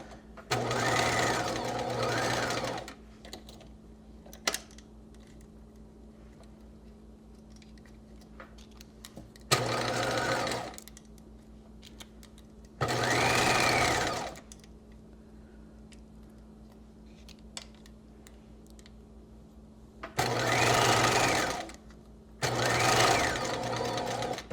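A sewing machine stitches a woman's top up toward the shoulder seam, running in several short, steady bursts with quiet pauses between them under a low constant hum.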